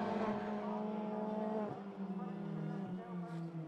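A supercharged Mini race car climbs the hill out of Devil's Elbow, its engine droning loud and steady, dipping briefly as it shifts, with a commentator talking over it.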